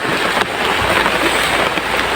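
Heavy rain pours down around a small hut, a loud, dense and continuous hiss with no break and no voices over it.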